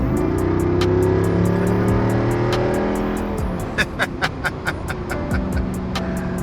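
A Jeep Wrangler Rubicon 392 V8 roars loudly while accelerating onto a freeway, its pitch climbing through gears before shifts, followed by a string of sharp rhythmic ticks near the end.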